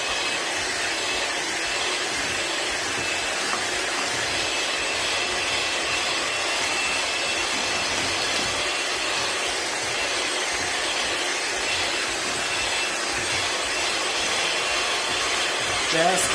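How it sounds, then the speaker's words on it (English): Electric hand mixer whirring through a beef patty mixture with spinach and cheese, a steady loud buzzing drone that holds without a break, no voice heard over it. "or a hand mixer. So we're just going to mix everything together here"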